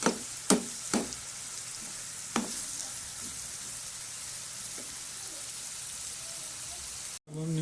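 Onions frying in a pan, heard as a steady close sizzle with a few sharp clacks of a utensil near the start, then an even hiss that cuts out briefly near the end, with no talking.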